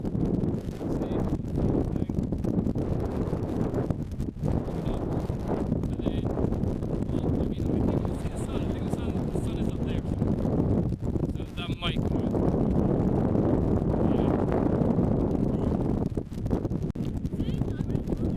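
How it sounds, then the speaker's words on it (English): Strong wind buffets the microphone on the hills above Loch Lomond, a constant heavy rumbling roar with gusty surges throughout, while people talk over it. "Wow, that's the wind."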